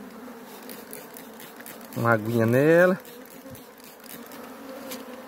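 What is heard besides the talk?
bees buzzing while being moved into a hive box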